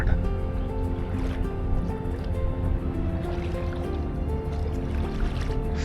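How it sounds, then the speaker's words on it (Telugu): A houseboat gliding along the Alleppey backwaters, a steady low engine drone with water lapping and gurgling against the hull, no talk. "ఇలా ప్రశాంతమైనటువంటి బ్యాక్ వాటర్ లో ఈ బోట్ పైన వెళ్తుంటే"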